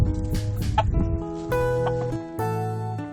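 A newly arrived rooster clucks and calls in a few loud, close bursts, harsh and throaty, with brief pauses between them.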